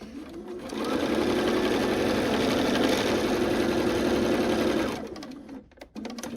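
Close up, a sewing machine stitches bat wing pieces for a quilt in one continuous run of about four seconds, a steady mechanical whir that starts cleanly and winds down at the end.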